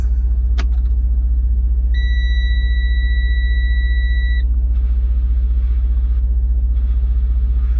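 Truck dashboard warning buzzer sounding after the ignition is switched on during a pre-trip air brake check: a single steady electronic beep holding for about two and a half seconds over a constant low hum, then falling silent.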